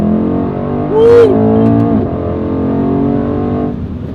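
Mercedes-AMG E63 S (2019/2020) in race mode accelerating hard, its exhaust a loud continuous roar with rising engine tones and a brief sharp upshift surge, heard from inside the car with no talking.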